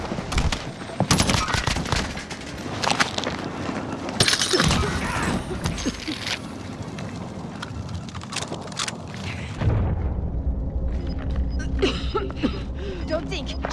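Bursts of automatic gunfire and scattered shots in Call of Duty Warzone Rebirth, dense and loud through the first half, then thinner shots over a low rumble with occasional game voice lines.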